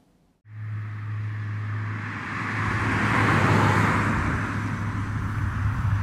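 A Hyundai IONIQ Electric car drives past at 50 mph on a wet road, its tyre hiss and spray building quickly from silence into a loud, broad wash that holds steady as it goes by.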